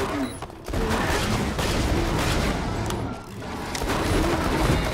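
Rapid bursts of gunfire from the video game Borderlands 2 fill the scene, dense and loud with brief pauses, while players talk over the shooting during a livestream.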